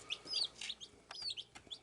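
Young Isa Brown hens cluck and chirp softly indoors in a quick series of short, high calls, close by and with no talk.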